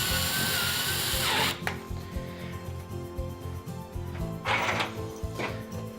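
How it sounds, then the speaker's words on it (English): A power drill driving a screw into a wall to mount rack shelving, a loud close whir that runs, then stops and restarts in short bursts, with clicks between. "now that we've got our second pilot hole in, we can go ahead and get the screw in"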